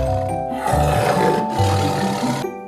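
Tiger roaring in an Assamese cartoon folk tale, a loud, deep, sustained roar in two long surges lasting over two seconds, with no talk over it.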